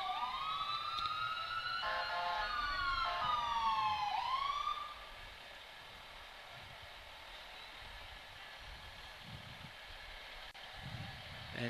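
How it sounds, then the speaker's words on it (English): Floyd County Rescue crash truck leading a Christmas parade, its siren wailing in rising and falling sweeps for about four seconds, then cutting out into quieter street ambience with faint crowd voices. "as you can hear, we have Floyd County Rescue coming up next after that"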